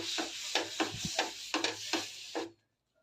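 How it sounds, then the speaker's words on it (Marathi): A hot dosa griddle is wiped with tissue paper in a series of about seven rhythmic, close rasping swipes with a faint sizzle beneath, stopping abruptly into silence. "आता मी हे टिश्यू पेपरने पुसून घेते"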